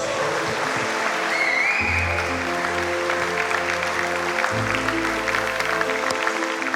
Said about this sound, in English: We're going to give them a round of Aussie applause